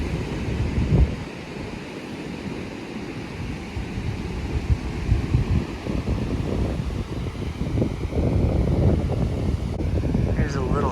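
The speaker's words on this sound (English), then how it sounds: "that wind is definitely picking up" Chilly wind gusts at the beach, roaring steadily alongside breaking surf of small two-to-three-foot waves, with a low rumbling buffet throughout and a few stronger swells.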